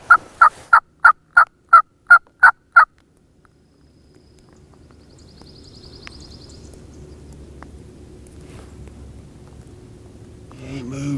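Wild turkeys in Georgia gobble in a quick run of about eight loud, sharply repeated calls, then fall silent as a low rumbling ambience rises.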